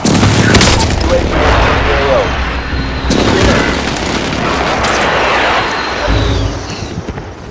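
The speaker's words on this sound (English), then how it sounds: "Enemy precision airstrike, take cover!" Precision airstrike explosions in Call of Duty: Modern Warfare, loud booming blasts in a few heavy bursts with rumbling tails, radio-style voices talking over them.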